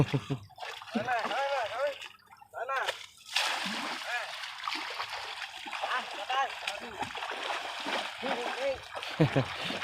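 Water splashes and trickles as an elephant is bathed and scrubbed with leaves, continuous sloshing and dribbling close by, with someone talking over it almost throughout.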